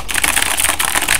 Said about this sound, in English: Guys, just listen to my keyboard.